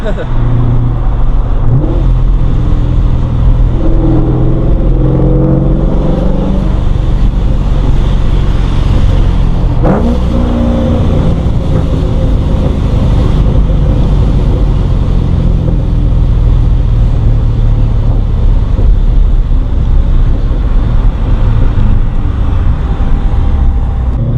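A car engine drones and rises loudly inside the cabin as it accelerates, with pitch changes suggesting gear shifts under constant road rumble.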